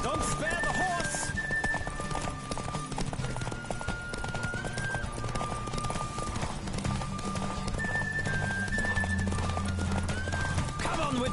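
Rapid hoofbeats of a galloping horse in The Witcher video game run throughout, steady and close, under continuous game music with a voice speaking over it.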